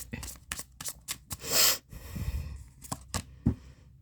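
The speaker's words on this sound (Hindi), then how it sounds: "Last shuffle." Tarot cards being shuffled by hand in quick, crisp riffling bursts with soft breaths between, close and fairly quiet.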